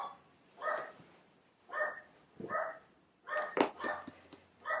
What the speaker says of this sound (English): you're just gonna have to ignore the dog in the background